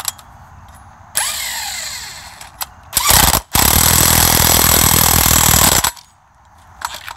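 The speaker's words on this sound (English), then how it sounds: "I'll put that nut back on in the right orientation" Power tool tightening a nut on an Oldsmobile 98 alternator during a parking-lot rebuild: a brief whir, then a loud sustained burst of a few seconds, with quieter mechanical handling before and after.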